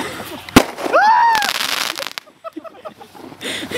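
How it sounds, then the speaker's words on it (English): Model rocket launching at a missile competition, a sharp pop followed by a rising whoosh with a whistling tone, then rumbling crackle as it climbs away, with excited voices shouting nearby. "Look at the rocket!"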